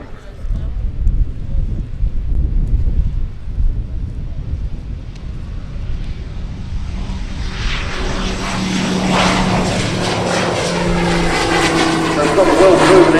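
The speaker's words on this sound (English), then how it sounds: "We've got a well-proven engine stuffed up the front, the PT6 engine from Pratt and Whitney" A Diamond Dart 750 turboprop's Pratt & Whitney PT6 engine drones steadily and grows louder as the plane approaches during a Farnborough Airshow display, its whine rising through the second half over wind rumble.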